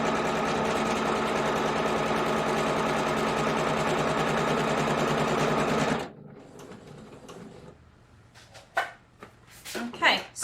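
A sewing machine stitches an automatic buttonhole in a fast, even whir for about six seconds, then stops, leaving faint handling clicks and rustles.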